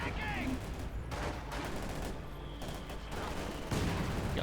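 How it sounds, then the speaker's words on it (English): Mortar and other gunfire in a Company of Heroes 2 match, with Wehrmacht against Soviet forces: repeated muffled blasts and bursts come in quick succession at moderate loudness, with a few brief gaps between volleys. "Got further mortar fire going in there."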